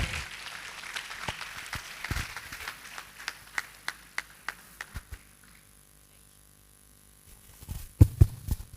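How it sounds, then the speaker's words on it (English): Scattered hand claps from a convocation lecture audience at Pamo University of Medical Sciences: sparse, uneven claps that thin out into near quiet, then a short, louder cluster of claps near the end. "Another round of applause for Dr. Nene and the Alumni Association."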